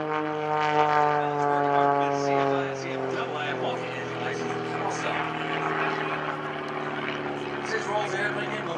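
An Extra S1S aerobatic plane performs at an airshow, its propeller engine droning steadily with strong harmonic bands, loud and continuous throughout while an announcer talks over it.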